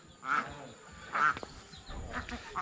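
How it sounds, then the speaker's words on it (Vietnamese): Ducks kept at a Black Thai stilt house quack in several short, separate bursts at moderate distance, with faint outdoor background between calls. "nhà mình nuôi nhiều vịt nhỉ?"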